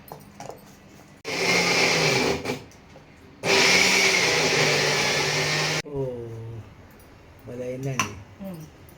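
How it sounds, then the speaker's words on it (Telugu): A kitchen mixer grinding peanut powder for jowar dosa, running in two loud sustained bursts with a pause between, followed by talking. "ఇదంతా రుబ్బుకుందాం"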